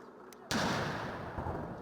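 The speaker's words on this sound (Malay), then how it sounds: "acara turut dimeriahkan dengan tembakan hormat di Hyde Park" Ceremonial gun salute fired in Hyde Park at a British royal event, heard as one sudden loud blast followed by a long rumbling, echoing roar that stays loud to the end.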